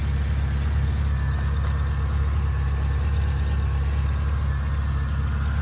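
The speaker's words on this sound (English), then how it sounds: "beautiful V8 engine with cold air induction" A 2011 Chevrolet Camaro convertible's V8 engine with cold air induction idling, a steady low rumble held evenly and close with no revving or talking.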